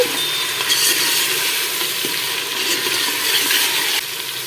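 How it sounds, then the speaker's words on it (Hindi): Ginger garlic paste stirred into frying onions in a pan for beef keema with peas, a loud steady sizzle with spatula scraping and stirring, no voices. "अब हम इसमें अदरक लहसुन का पेस्ट शामिल करेंगे 1 टेबलस्पून और इसे 1 से 2 मिनट के लिए मिक्स करेंगे"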